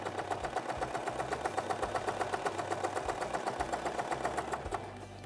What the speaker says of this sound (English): you're going to let the serger do its work at a nice slow clip